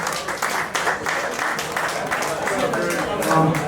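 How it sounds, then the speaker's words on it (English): Audience of roughly seventy people at a collectors' night giving a round of applause, dense clapping that swells toward the end, fairly close. "So a round of applause for all you guys for coming out"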